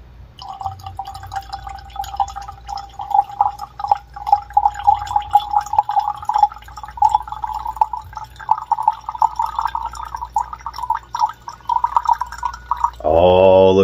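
Filtered water drips steadily into a glass of black absinthe to louche it, a fast, close run of small plinking drops ending in a brief louder pour.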